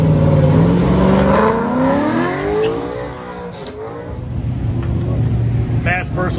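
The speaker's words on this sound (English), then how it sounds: "On the line, Matt Alcala in that fastback GT Mustang." A fastback Ford Mustang GT charges through an autocross course at a Goodguys event, engine rising and falling through gear changes with a brief tire chirp, as a loud announcer talks over it.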